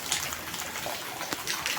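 Steady rain falling outdoors during a monsoon spell, a continuous close hiss of drops with a brief splash near the end, no voices.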